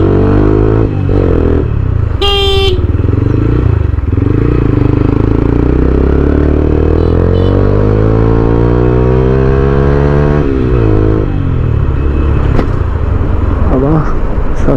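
A loud Taro GP six-gear motorcycle engine runs steadily on a ride, its tone sweeping up and down as it revs, with a single short horn blast early on.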